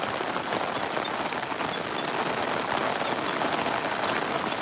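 Heavy rain pours down on a car park, a thick, unbroken hiss of drops striking surfaces nearby, steady and even in loudness from start to finish with no voices.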